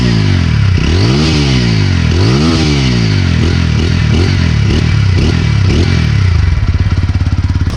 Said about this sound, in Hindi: अब थोड़ा आपको इसका मैं एग्जॉस्ट साउंड सुनाता हूँ।